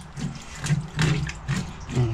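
Tap water runs over a freshly gutted and cleaned trout at a sink, a steady splashing rinse with slight surges in flow, close and moderately loud.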